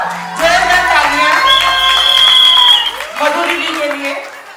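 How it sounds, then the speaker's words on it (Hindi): A crowd applauds performers at a Teej celebration, loud clapping swelling and fading over several seconds while a voice speaks over it. "जोरदार तालियां"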